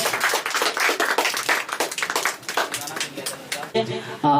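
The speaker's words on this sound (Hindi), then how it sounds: "चलिए उनके लिए एक बार ताली बजा दीजिएगा आप लोग।" Children at a teachers day celebration clap together, brisk and fairly close, with voices mixed in. The clapping tapers off near the end as a voice begins speaking.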